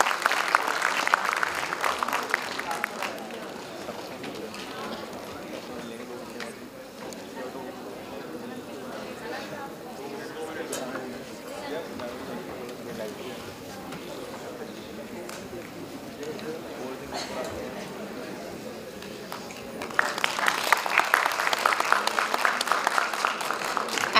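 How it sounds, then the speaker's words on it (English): Audience applause at a Constitution Day event, heard as a loud burst of clapping at the start and again near the end, with a quieter stretch of crowd murmur and chatter in between. "I request the dignitaries to please applaud the efforts of Dr. Anant Vijay Maria for conducting the"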